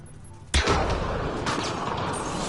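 A grenade launches in the video game Mass Effect Andromeda with a sudden loud boom, then a dense, sustained rumble of noise afterward.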